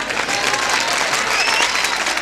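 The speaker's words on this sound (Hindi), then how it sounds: "2-3 तालियों के लिए बहुत धन्यवाद।" An audience claps together at a Hindi poetry or song gathering, loud and continuous applause filling the room with steady, dense hand claps.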